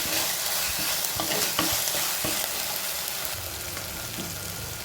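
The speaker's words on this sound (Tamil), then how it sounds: "நல்லா சேர்த்து வதக்குவேன்" Ginger garlic paste with onions sautéing in a hot pan, a steady close sizzle with intermittent stirring scrapes throughout and no talk.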